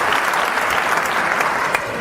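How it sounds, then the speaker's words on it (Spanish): A live audience at a talk breaks into steady, dense applause, many hands clapping continuously at a fairly loud, even level for a couple of seconds. "El aplauso es para Mari Carmen."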